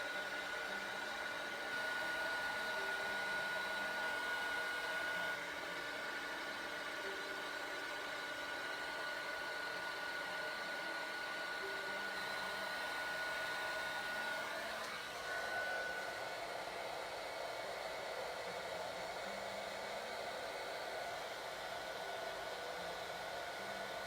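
Heat tool blowing hot air to warm an embossed card background, a steady continuous whirring blow that holds level for the whole stretch with no voices over it.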